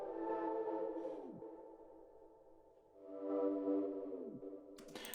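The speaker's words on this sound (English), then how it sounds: "Then I took this swell pad that on its own sounds like this." A simple synth swell pad heard on its own: soft sustained tones that slowly rise and fall in two gentle swells with a faint sweeping shimmer, mellow and steady, with no talking.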